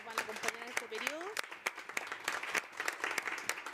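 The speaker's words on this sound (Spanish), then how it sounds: "les pedimos un aplauso a estas compañeras" Scattered clapping from attendees at a plenary meeting, with sharp individual claps spaced fairly evenly and a voice talking underneath for the first part.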